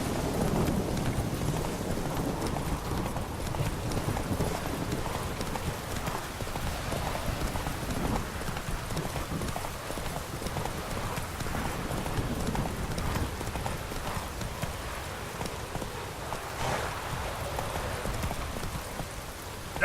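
In The Witcher 3 video game, the horse Roach gallops with a long, steady run of drumming hoofbeats over a rumbling ambient bed, continuous and moderately loud throughout.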